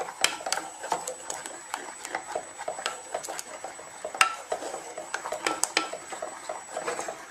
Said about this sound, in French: Remuez tout le temps.